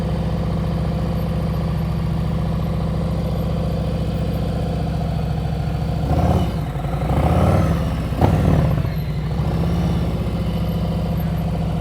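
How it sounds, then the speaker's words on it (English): A motorcycle rolls at slow speed with the throttle held steady and the brake dragging, a constant low engine hum with brief swells and bumps midway, close and even, no talking. "Listen to the throttle, it's steady."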